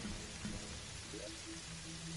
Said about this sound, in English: Yeah, finally stopped raining.